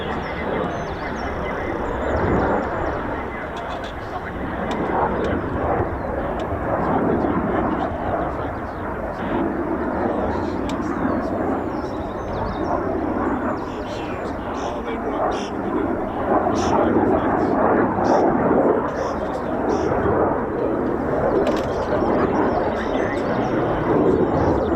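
A Typhoon FGR4 jet flies in the airfield circuit at an RAF quick reaction alert station, a broad, continuous engine roar holding steady throughout with mild swells, and a voice talks intermittently over it.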